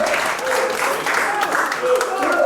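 A congregation at a Normandy evangelical church gathering applauds the Évreux church, a moderate, continuous clapping with talk and murmured voices mixed in.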